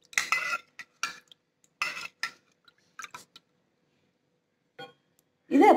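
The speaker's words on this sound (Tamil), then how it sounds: "அதுல 2 குளிக்கரண்டி தயிர் சேர்த்துக்கலாம். சேர்த்து இதை நல்லா கலக்கி" A spoon clinks and scrapes against a vessel while curd is stirred into raw milk, coming in sharp irregular bursts separated by silences, with a final louder clatter at the end.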